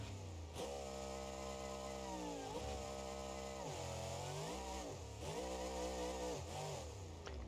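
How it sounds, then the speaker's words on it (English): A supercharged Hemi V8 with a twin-screw blower in BeamNG.Drive's Monster Jam pack revs repeatedly, its pitch climbing, holding and dropping across several distinct pulls, loud and close with a buzzy, harmonic-rich growl. "So this is just a Hemi with a twin screw blower."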